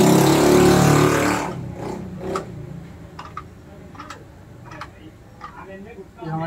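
A nearby motor vehicle gives a loud, roaring engine rev for just over a second, then cuts away to quieter ticking and faint background noise while someone talks.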